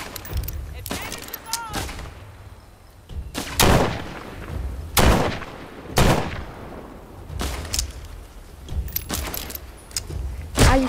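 Gunfire in The Walking Dead: Saints & Sinners, a zombie survival video game: a run of sharp, loud shots spread irregularly through the scene, some in quick pairs, mixed with game noise and occasional speech.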